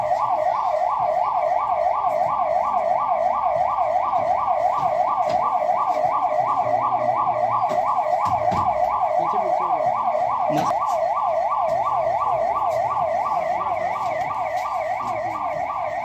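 A 108 ambulance siren wails steadily and loudly during a mock drill, its rapid rising-and-falling tone repeating without pause over faint road traffic.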